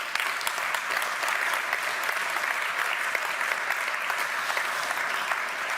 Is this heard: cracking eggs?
no